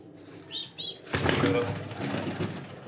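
A baby Golden pigeon gives a brief burst of wing flapping, a fluttering rustle close by, after two short squeaky sounds, with a voice speaking over it.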